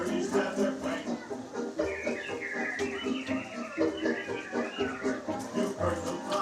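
Recorded birds chirp and warble amid music and chatter inside Disneyland's Enchanted Tiki Room show, a dense, continuous mix of bird calls, crowd sound and voices layered together throughout.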